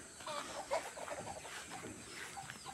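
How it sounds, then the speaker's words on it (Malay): Several chickens cluck softly and intermittently nearby, short irregular calls over quiet outdoor background, no one speaking. "Kita ada ayam."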